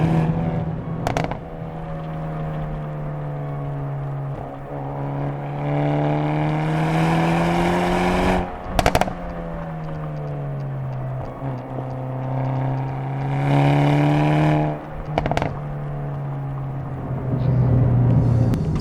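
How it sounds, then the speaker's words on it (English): Stock Hyundai Elantra N, tuned past 300 wheel horsepower, running with a loud droning exhaust note that rises and falls through revs, broken by several sharp crackling pops and bangs, close up with no talk. "the pops out of the exhaust are just hilarious"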